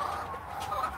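An injured, limping hen gives a brief, soft run of clucks, faint and alone with no voices.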